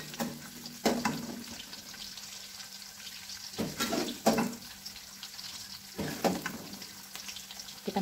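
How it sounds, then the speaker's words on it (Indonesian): Green chilies and shallots sauté for chili sambal, with garlic already in the pan, giving a steady low sizzle and frying hiss broken by several louder stirring scrapes and clatters at irregular moments. "Kita tumis sampai harum."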